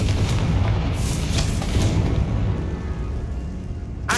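Confringo blasting spell going off in Hogwarts Legacy, a loud rumbling boom that rolls on for several seconds with dense low-end energy, ending in a sharp burst.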